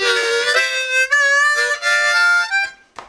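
Harmonica played far too hard, with lots of air sucked through the reeds, giving a brash, reedy run of drawn and blown notes in short bursts with abrupt breaks, close and loud, ending in a final short blast.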